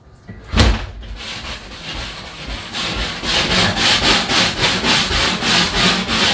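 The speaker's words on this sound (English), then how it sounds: "And when I'm scrubbing it, I can hear that it's dirty." Scrubber brush rubbing across a dirty glass shower door in close, rhythmic back-and-forth strokes, starting with a sharp knock and settling into a steady, even scrubbing pattern.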